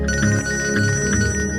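An incoming call sets a phone ringtone going in a household scene of a Bhojpuri film, a steady, loud electronic melody that fills the moment with no talking.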